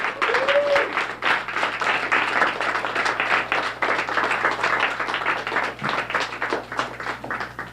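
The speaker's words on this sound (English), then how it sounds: "So give them a round of applause too." A crowd at a trivia awards ceremony applauds steadily for nearly eight seconds, a dense, even wash of clapping, with a brief whistle-like tone near the start.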